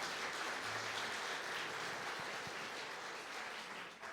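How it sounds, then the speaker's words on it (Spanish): Church congregation applauding during a sermon, a broad, steady roar of many hands clapping that holds fairly evenly and eases slightly at the end. "Dele el aplauso a Él entonces por eso."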